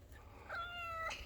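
A cat meows twice, a drawn-out call followed by a shorter one, fairly close over a low background hum, with no talking.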